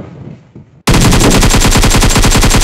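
Sustained machine gun fire in PUBG erupts abruptly after a brief quiet moment: loud, close, rapid shots in one continuous burst that fills the rest of the clip.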